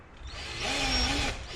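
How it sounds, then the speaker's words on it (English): A power drill whines up in a short burst, starting a hole during a golf cart seat replacement, rising and holding for about half a second before winding down, with no voices. "Got my drill."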